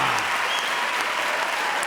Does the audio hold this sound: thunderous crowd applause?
yes